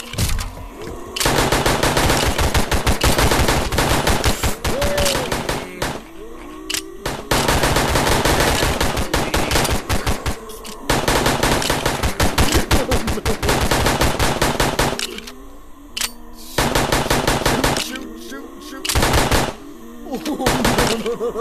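Sustained bursts of M16 automatic gunfire in a VRChat zombie survival game, loud and continuous with brief pauses between volleys.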